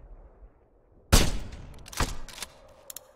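A loud sniper rifle shot cracks out in a war shooter game, Sniper Ghost Warrior 2, followed by a few fainter reports and clatter trailing off.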